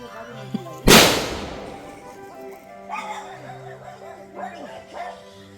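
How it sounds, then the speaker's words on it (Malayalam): A single sharp, loud firecracker bang goes off close by near a tree where bats roost, followed by scattered high-pitched squeaks and yelps fading into the background. "അനൂപ് തന്നെയാണ് ആ ക്രാക്കേഴ്സൊക്കെ പൊട്ടിച്ചത്."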